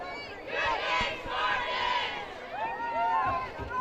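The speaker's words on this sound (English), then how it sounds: "A big cheer from the Seattle" A big crowd cheers and roars at a Women's Football Alliance game, Portland Shockwave at Seattle Spartans, a loud sustained swell of many voices with shouts rising and falling throughout.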